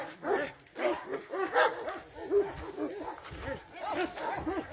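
Barking dogs spread along a tree line in the countryside, a steady run of overlapping barks and yips, some near and some farther off, filling the whole stretch.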